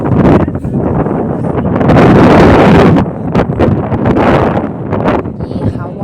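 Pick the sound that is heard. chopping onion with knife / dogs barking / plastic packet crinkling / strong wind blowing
strong wind blowing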